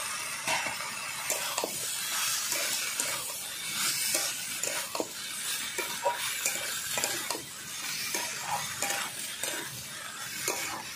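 Mixed vegetables with broccoli, peas, carrot, beetroot and chopped green tomato are stirred and tossed in a hot pan, giving a steady sizzle broken by repeated scraping and clinking strokes of a spoon, close and loud, with no talk.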